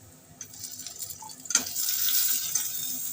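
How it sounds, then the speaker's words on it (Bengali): Chopped onion is tipped into a hot pan for a prawn and taro-stolon curry; a soft thud, then a sizzle that rises and holds steady, close by and moderately quiet, with no talking. "এবার আমি পেঁয়াজ কুচিটা দিয়ে দিচ্ছি"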